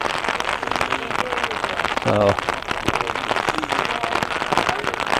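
Steady rain hisses across a youth pony softball game in Champlain–Rouses Point, a constant broadband wash running beneath a commentator's voice.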